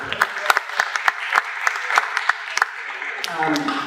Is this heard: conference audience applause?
yes